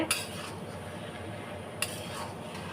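A spoon stirs a mung dal and pea dish in a pan, giving two light metallic taps over a soft, steady cooking hiss.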